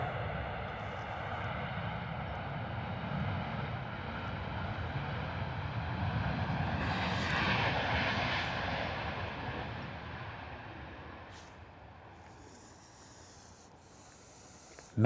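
A Ryanair airliner arriving at London Stansted from Dublin roars steadily with broadband jet noise that peaks midway and then fades, heard alone without talk.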